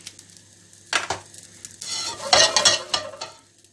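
Vegan naan bread fries in hot oil in a pan, giving bursts of close sizzling around turning and stirring movements. Quieter stretches fall between the louder spells, and no one talks.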